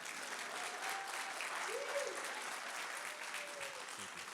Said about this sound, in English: Now you can clap, please.